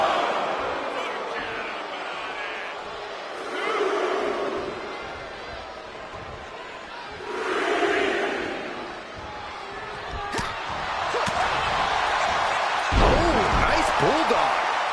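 A virtual arena crowd in the WWE 2K24 wrestling game swells in waves of cheering, rising and falling several times, with a sharp slam and thuds of in-ring impact toward the end.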